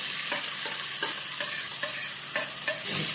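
Onions and tomatoes fry in hot oil, giving a steady, loud sizzle with repeated stirring scrapes, close by and with no talking.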